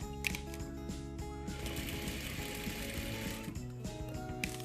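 A sewing machine runs steadily while stitching the side seam of a two-layer fabric face mask, its ratcheting mechanical whir continuous with a few louder clacks near the start and end, close and alone.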